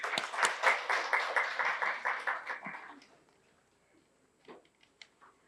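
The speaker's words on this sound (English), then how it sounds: "A big round of applause for them." Audience applause at the inaugural session of a formal conference, acknowledging the event's sponsors: steady hand clapping for about three seconds that fades out, leaving a few scattered late claps in a quiet hall.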